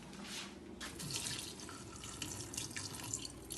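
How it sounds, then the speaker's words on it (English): Liquid from a tin of mackerel is poured off, a continuous thin splashing trickle with small drips, close but quiet, with no voices over it. "pour that water off, whatever the mackerel is sitting in"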